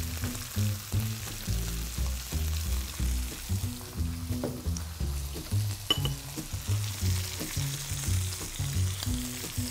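Filet mignon sears in olive oil in a hot pan, a continuous crackling sizzle with soft low knocks recurring throughout, no voices.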